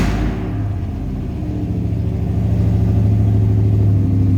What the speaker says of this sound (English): let's go ahead and start this up. That MagnaFlow exhaust on it sounds good.